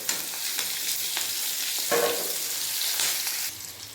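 Sugar and green chilies sizzle in a thin layer of hot oil for cabbage cooked with fish head, a steady close frying hiss with a brief louder burst midway, no voices.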